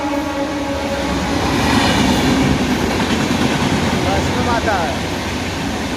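An express train rolls through a railway station, a loud sustained rumble of wheels and carriages passing close by, swelling in the middle and easing toward the end, with voices audible under the noise.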